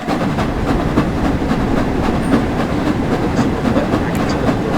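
The Flying Scotsman steam locomotive running on the East Coast Main Line in Train Sim World 4, with a steady, loud rumble and rhythmic wheel clatter that rolls on without pause.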